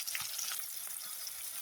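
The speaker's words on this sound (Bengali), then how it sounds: "সামান্য পানি দিয়ে মশলা কষানো হচ্ছে।" Ground spices frying in a pan with a little water, chilli, turmeric, coriander and onion paste among them, giving a steady, close sizzle with faint stirring, brief and unbroken, no voices.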